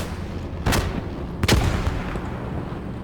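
Two sharp, heavy shots from an automatic rifle in the video game Post Scriptum, each one a loud crack with a rolling tail, over a steady background rumble.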